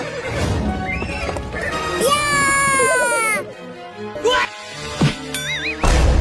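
Cartoon horse neighing, a loud drawn-out whinny near the middle with clip-clop hooves and animated voices and effects around it.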